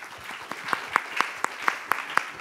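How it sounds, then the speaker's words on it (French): An audience at a round-table event applauds a member of parliament with sparse, evenly spaced claps at about four per second over a soft room murmur. "On peut applaudir notre députée."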